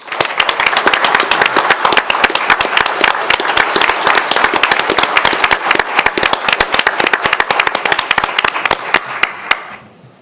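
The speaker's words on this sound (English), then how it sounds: "Can you all give these individuals a round of applause?" A round of applause at a city council business meeting, dense rapid clapping from a roomful of people, steady and loud for about ten seconds before cutting off.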